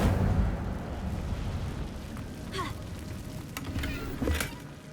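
A fiery spell burst in Hogwarts Legacy, a whooshing roar of flame over dense rumbling game ambience, with a few sharper crackles and flares toward the end.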